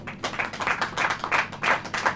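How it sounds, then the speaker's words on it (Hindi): Church congregation clapping in a steady rhythmic pattern, evenly spaced bursts of claps repeating for about two seconds, moderately soft and slightly distant. "ताली हो जाइए।"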